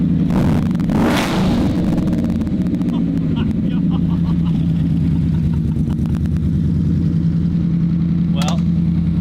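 A Ford Coyote V8 engine idles with a steady low rumble and blips briefly near the start, loud and close, under a person speaking over the engine noise.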